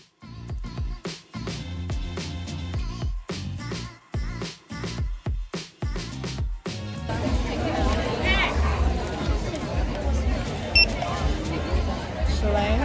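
Outdoor crowd at the CurlFest 2018 festival: broad, continuous hubbub of many voices chattering, with sharp intermittent clicks and bursts early on before settling into a steady, dense wash of crowd noise.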